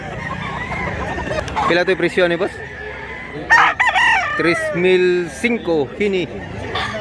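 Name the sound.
roosters crowing and clucking at a chicken market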